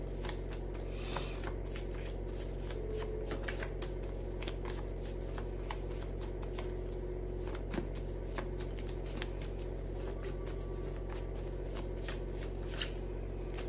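Tarot cards shuffled steadily by hand at close range, a continuous papery riffling and sliding that runs the whole time with small flicks and taps, no voices.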